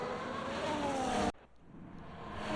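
F1 race cars from the F1 24 game at the Italian Grand Prix, Franco Colapinto chasing Daniel Ricciardo's RB2, roar past loud and close with a steady engine whine that cuts off abruptly, then swells back up from a distance.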